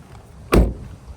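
A single solid thud of a wrecked car's door shutting at a police vehicle auction, close by, with a brief low boom and quiet background afterward.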